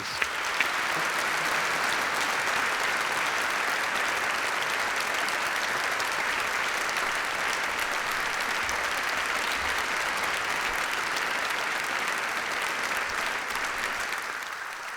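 A large audience in Oxford's Sheldonian Theatre applauds the panelists of a discussion on satire, sustained, even clapping that fills the hall for about fifteen seconds without letting up.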